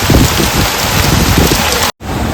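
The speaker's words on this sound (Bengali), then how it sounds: "বৃষ্টি কিন্তু এখনও পড়ছে কন্টিনিউ তবে মানে অল্প একটু পড়ছে" Rain pours steadily near a monsoon waterfall, a loud, dense, close wash of water that cuts out briefly just before the end.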